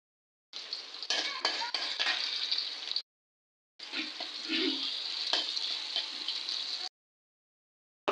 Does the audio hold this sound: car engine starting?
no